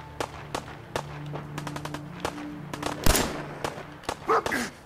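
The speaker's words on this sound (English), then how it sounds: "Gotta start shooting." Gunfire in the video game Fallout 4, a rapid series of sharp, close shots in quick bursts and single cracks, with some short game sounds mixed in.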